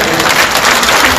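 A congregation at a Puritan theological seminary lecture claps after a closing prayer and hymn: a brief, dense patter of many hands, steady and fairly close, lasting about a second.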